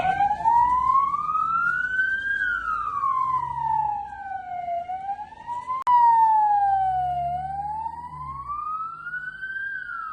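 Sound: fire truck siren

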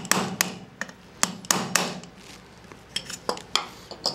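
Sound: small hammer tapping a punch to push out roll pin

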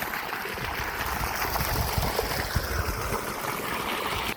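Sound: water gushing from 3-inch pipe of 7.5HP Texmo pump

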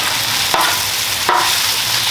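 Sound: onions cooking with beef for a chopped cheese sandwich

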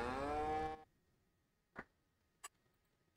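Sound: cows mooing in video game Farming Simulator 22

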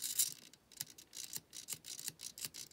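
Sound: RC car steering servo moving

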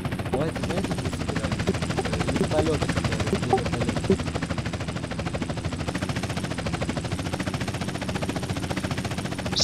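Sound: helicopter flying in a video game (GTA roleplay)

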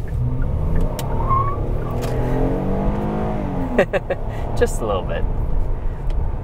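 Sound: 2015 Kia Cadenza sedan engine revving, attempted burnout

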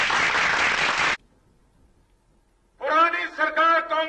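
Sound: audience applause

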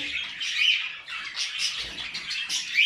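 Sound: male cage bird courting a female

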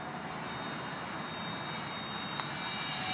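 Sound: Parkzone Habu 2 RC model jet flying

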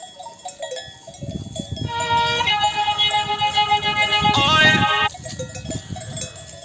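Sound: Sakız ram and sheep in a mountain pasture

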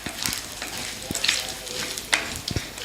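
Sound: dry red chillies and curry leaves frying in oil for tempering

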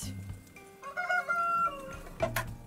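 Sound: rooster crowing

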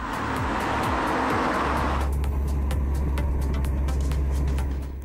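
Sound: VW Sharan diesel van driving and accelerating

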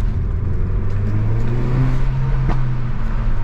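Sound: Renault Megane 4 RS Trophy exhaust while revving

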